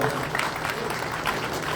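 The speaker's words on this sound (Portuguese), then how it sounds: "Mais uma salva de palmas, por gentileza." Sustained audience applause fills a hall at the opening ceremony of the 50th SBCCV congress, a dense, steady wash of clapping hands with no voices over it.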